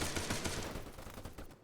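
Arma 3 combat gunfire crackles in dense, rapid bursts of close shots, machine-gun style, loud at first and thinning out toward the end.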